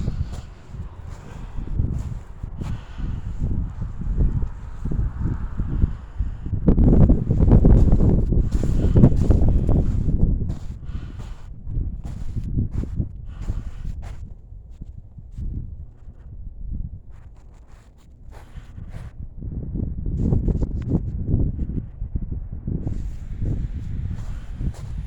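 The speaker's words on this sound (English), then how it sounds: "Sorry about the wind in advance," Wind buffets the microphone continuously with low rumbling gusts in a snowy cemetery, swelling loud in the middle and easing off before building again.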